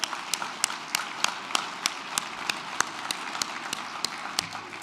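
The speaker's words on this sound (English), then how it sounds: "So give everybody a round of applause." Sparse applause from a conference audience, with distinct individual claps spaced irregularly over a steady room murmur, moderately loud throughout without speech.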